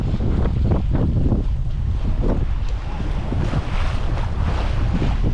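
A sailboat sails along in a 15-knot beam wind, with heavy buffeting wind roar, water rushing and slapping against the hull, and waves washing past in a constant, loud, close wash.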